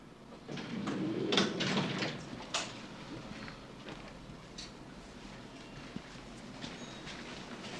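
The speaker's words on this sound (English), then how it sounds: "Oh, I can't. The door won't open." A car door that won't open is yanked and rattled several times, with sharp metallic clunks early on, then quieter knocks and handling noises in a TV crime-drama scene.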